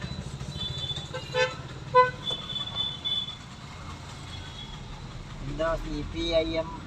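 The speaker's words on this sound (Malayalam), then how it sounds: "നല്ല ബ്ലോക്ക് ഉണ്ട് എറണാകുളത്ത്" Busy traffic noise in Ernakulam with a low rumble and several short horn toots, with people talking nearby throughout.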